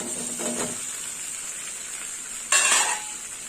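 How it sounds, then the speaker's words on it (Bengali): Pointed gourd (potol) fries with spices in a pan as a constant sizzle, with a couple of scraping stirs of the spatula and a louder burst of sizzling near the end, close up and free of talk. "পটলের সাথে মশলা দিয়ে ভালো করে কষিয়ে নেব"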